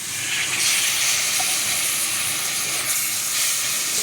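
A loud, broad steamy hiss rises as a little water goes into a hot pan of fried bitter gourd and spices. It holds strong and fairly even across the whole moment, with no voices.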